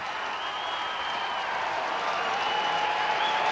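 A football crowd roars in a steady, loud wash of cheering and applause after a goal, with a faint whistle tone gliding above the noise.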